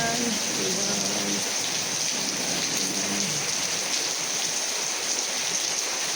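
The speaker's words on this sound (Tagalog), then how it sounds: "Umuulan. Umuulan, umuulan." Steady rain pours down, a dense hiss of drops hitting surfaces close by, continuous and fairly loud with no voices.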